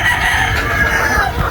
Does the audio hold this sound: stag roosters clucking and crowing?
yes